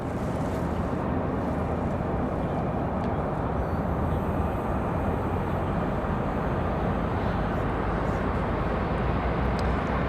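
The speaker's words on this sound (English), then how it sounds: "Next arrival, Delta 1279 coming in from Tampa." A Delta Airbus A320 airliner arriving from Tampa roars steadily at Raleigh Durham airport, a broad, constant engine rumble holding level throughout with no talk over it.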